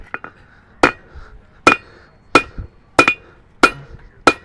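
A blacksmith hammers metal on the near edge of an anvil: about seven sharp, ringing strikes at an uneven, unhurried pace, a few light taps between them, close and loud with no talking.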